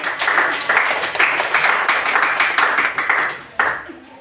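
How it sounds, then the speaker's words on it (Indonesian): Classroom applause for a group presentation, a steady burst of many hands clapping at close range for about four seconds, with a brief lull near the end before a final short flurry. "penampilan yang bagus tepuk tangan untuk kelompok 5"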